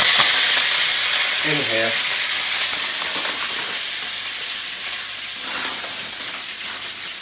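Contents of a bag emptied into a heated pan sizzle and fry with a steady, loud hiss and crackle that slowly eases, a brief voice heard early and a clink of cookware partway through.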